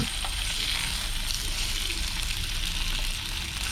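Sun-dried pork sizzles and crackles steadily in a hot pan, a dense, continuous frying hiss that stays loud and even throughout with no voices over it.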